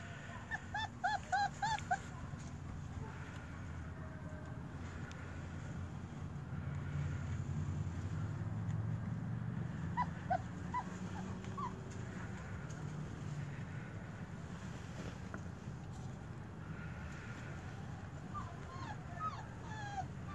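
German shepherd puppies at four weeks old whimper and squeak in brief, faint high cries, scattered over a steady low rumble of a passing aircraft, with a quiet voice at times.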